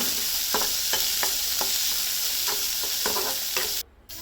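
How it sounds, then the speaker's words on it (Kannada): Onions and raw green peas fry in a pan with a steady close sizzle, broken by a few light spatula scrapes and taps, then a sudden brief drop near the end. "ನಾನು ಮಿಕ್ಸ್ ಆಗಿ ಸ್ವಲ್ಪ ಬೇಯಿಸಿ ಹಾಕಿದ್ದೀನಿ ಒಂದು ಕಡ್ಲಿ ಅಂತ ಹಾಕ್ತಾ ಇದ್ದೀನಿ ಫ್ರೈ ಮಾಡ್ತಿದ್ದೀನಿ"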